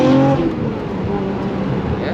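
A Nissan R34 GT-R with valved mufflers and a free-flow downpipe runs close by, its turbocharged engine droning and falling off after a brief rise, while people talk over it.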